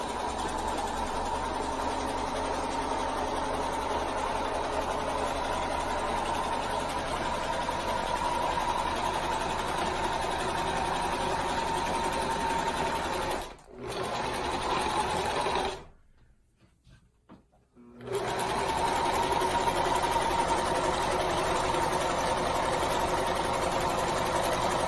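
A Singer sewing machine whirs steadily at a constant pace, stopping for a moment partway through, then falling quiet for a couple of seconds before resuming.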